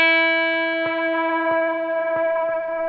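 A single guitar string is struck through a Maris LVX delay pedal, ringing with a sustained tone while soft repeating echoes pulse about every two-thirds of a second.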